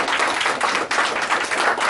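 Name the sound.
office group applause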